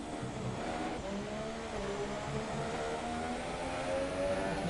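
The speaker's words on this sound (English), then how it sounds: "Needs their 5th gear, chucks it down 2 gears, down into 2nd, now brings the car back up a few gears there." Formula 1 racing car in a Singapore Grand Prix video game, its engine note stepping through harmonic shifts as it drops two gears into second and then climbs back up, loud and continuous.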